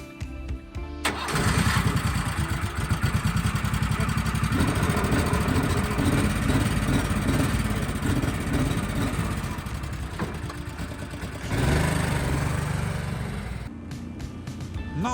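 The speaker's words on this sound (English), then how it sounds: "let's try to start the engine and have a ride" A homemade double-tracked snowmobile sled with leaf-spring front suspension cranks and fires up, then settles into a loud, steady close-up idle with a rough buzzing pulse and a few throttle changes.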